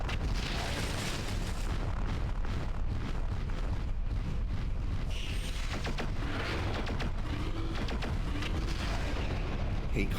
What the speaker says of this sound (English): Hate calliope turrets, they're so damn powerful.